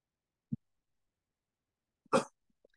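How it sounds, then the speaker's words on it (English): A single short cough bursts out near the mic, preceded by a faint throat sound, with quiet gaps around it. "I apologize for coughing."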